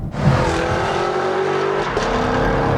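A 2018 Chevrolet Camaro SS launching hard under launch control, its V8 roaring loud and close with a steady rising drone and a hint of tire noise, no voices.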